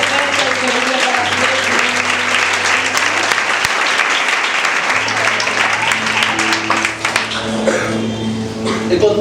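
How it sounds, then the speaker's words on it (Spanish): A church congregation claps loudly and continuously for several seconds, a dense wash of applause with a voice speaking over it partway through. "Si usted lo creyó, aplauda fuertemente al Señor"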